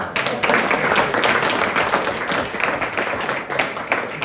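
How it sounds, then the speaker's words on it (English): Warm applause for a cricket club's first-year vice captain at an awards dinner, a roomful of diners clapping steadily and loudly with a few voices mixed in, continuing throughout. "a really big round of applause for him as well"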